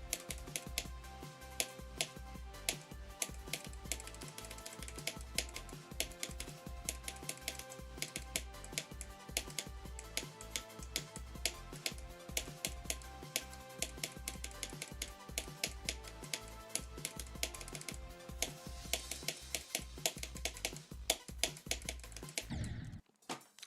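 Rapid, continuous clatter of a computer keyboard during gaming, dense key taps close by and moderately loud, stopping abruptly at the end.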